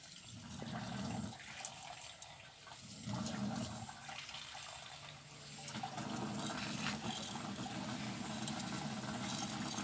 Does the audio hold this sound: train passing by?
no